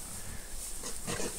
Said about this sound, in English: Pigs are following him around.